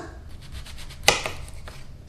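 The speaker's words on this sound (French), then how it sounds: "Je vais commencer par ôter la base." Knife slicing the base off an endive on a cutting board, one crisp close cut standing out over quiet background rustle.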